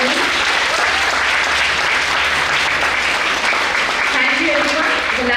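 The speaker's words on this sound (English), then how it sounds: "So a big round of applause to all of you." Conference audience applause fills the room as a dense, steady wash of many hands clapping. It is loud and continuous, with faint voices underneath.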